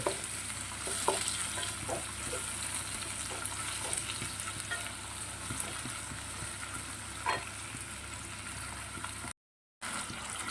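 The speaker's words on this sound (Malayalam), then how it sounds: "രണ്ട് തക്കാളി ചെറുതായിട്ട് അരിഞ്ഞിട്ട് അതും കൂടി ഇതിൻ്റെ നമുക്ക് വഴറ്റിയെടുക്കാം" Chopped tomatoes sauté in a pan for beef curry with a steady, even sizzle and the occasional soft stir, close and continuous, with no talking.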